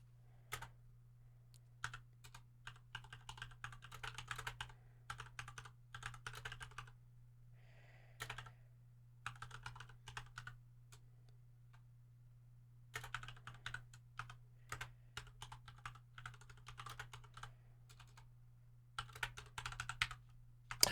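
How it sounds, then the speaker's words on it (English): Bursts of typing on a computer keyboard during a livestream, quick close clicky keystrokes in irregular runs separated by short pauses, over a steady low hum with no talk. "I hate typing things out, especially when I'm streaming, because then I'm like, people are just hearing this."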